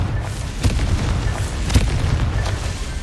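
Blasting-spell explosion in the video game Hogwarts Legacy: a dull, heavy boom over a steady rumbling game backdrop, with a couple of softer bursts following, no speech.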